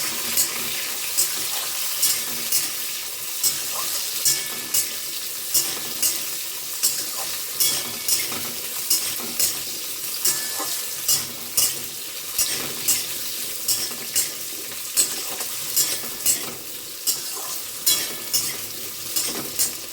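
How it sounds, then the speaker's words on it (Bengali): Potatoes fry in a pan of tempered spices, a constant hot sizzle cut by regular scraping stirs of a spoon, about one or two each second, close and without talk. "এই অবস্থায় আমি এই আলুগুলো কিন্তু এর মধ্যে দিয়ে দিচ্ছি।"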